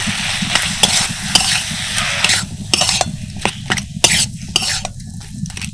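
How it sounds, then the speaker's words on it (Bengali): Potatoes being mixed with spices in a pan for bread chop filling: quick, close scrapes and clinks of a spoon on metal come in uneven bursts over a soft background sizzle, with no talking. "এবার সব কিছু ভালো করে মিশিয়ে নেব"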